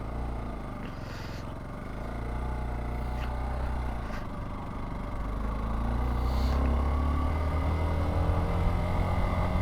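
A Hero Xpulse motorcycle riding on a ghat road on a sunrise trip to Matheran, its steady engine drone with wind rush, pitch shifting and rising in loudness toward the end, with no talk.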